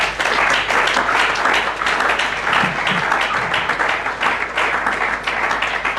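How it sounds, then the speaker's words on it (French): Church congregation applauding, a dense, loud, continuous wash of clapping from many hands that holds steady throughout. "Acclamons le Seigneur"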